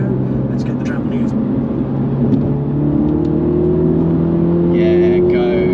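A Mini GP3 cruising along a country road, its engine droning steadily with tyre and wind roar throughout, a speaker talking over the sound.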